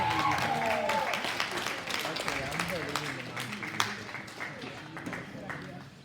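Audience at a cattle show claps for a young showman, a loud burst of applause that gradually thins out while an announcer keeps speaking over it.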